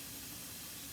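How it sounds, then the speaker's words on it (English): Soft, steady steam hiss rises from a stovetop as cooked rice is sieved during stir-fry cooking, a continuous faint whoosh with no voices. "you can go sieve your rice into"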